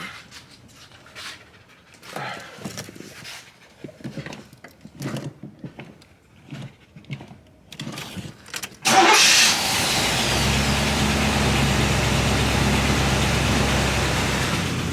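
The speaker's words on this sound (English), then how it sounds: "We'll do a cold start out here and see how she go." After a new Edelbrock carburetor is fitted, a car engine cold-starts with a sharp catch and settles into a loud, steady idle, following a stretch of quiet rustling and panting-like sounds.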